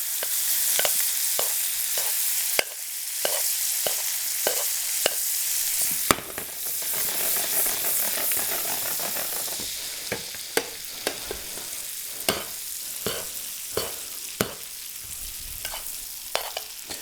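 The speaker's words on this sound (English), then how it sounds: "continuously basting those breasts." Partridge breasts basted in a pan of foaming, browned butter: a constant close, loud sizzle broken by sharp repeated spoon clicks against the pan at an irregular steady rhythm, with no voices.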